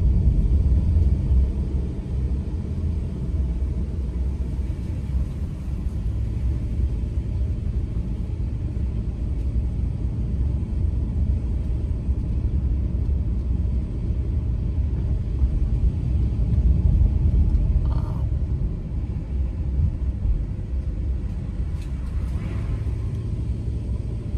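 A car rolls slowly through the residential streets of Bel Air, Los Angeles, a steady low engine and road rumble filling the interior with a few faint higher sounds near the end.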